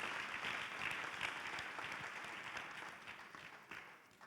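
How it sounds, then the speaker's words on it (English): Steady applause from an audience at a live brain-computer interface competition ceremony in Graz, Austria, dense clapping that holds for several seconds and slowly thins toward the end, with no talk over it. "A huge round of applause for Pascal and the entire team of Mirage 91."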